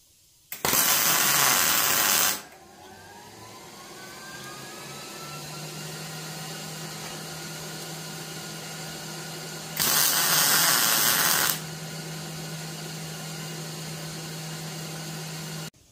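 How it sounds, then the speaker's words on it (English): Spot welding fills the screw holes on a John Deere Model E, two loud, broad bursts of welding arc about two seconds each, separated by a steady hum of the welder between them. "So let's weld her up."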